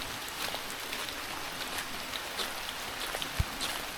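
Steady rain patters on a surface in a rural Konkan village setting, a soft continuous hiss of drops with a single brief thump near the end and no voices.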